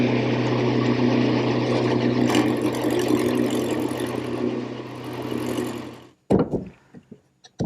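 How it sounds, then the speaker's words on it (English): A lathe turns a laminated tiger maple washstand leg, a steady loud whirring drone that runs on without break, then cuts off near the end into a few short knocks and clatters. "With the leg remounted in the lathe, I can trim the top area of the lamination and complete the turning."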